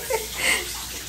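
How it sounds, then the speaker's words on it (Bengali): Water runs from a kitchen tap while a spatula is rinsed, a short, steady splashing rush heard close up. "খুন্তিটা একটু ধুয়ে নিতে বললাম।"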